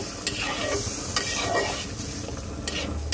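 Chili and spice masala frying in a pan with green chilies and a little water added while a spoon stirs it, a soft sizzle under repeated scraping strokes, close and moderately quiet with no talk.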